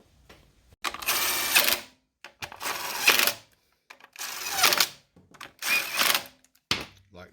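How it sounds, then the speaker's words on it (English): Nuts go onto the air cleaner box of a Honda GX270 generator engine: four short mechanical whirring bursts, each about a second long, separated by brief pauses and sounding close by. "I'm gonna pop a couple nuts on in this air cleaner box"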